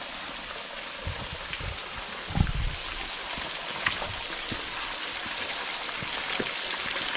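A waterfall in a cave area roars as a steady, dense rush of falling water, constant and close, with a few faint knocks and bumps over it and no talking.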